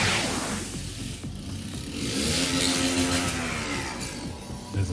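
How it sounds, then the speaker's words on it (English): Motorbike engine in the video game Shadowrun: Dragonfall, a mid-pitched whirring rev that swells and holds, then eases off, over clattery background noise with no talking. "There's a motorbike."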